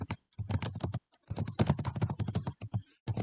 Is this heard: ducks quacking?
no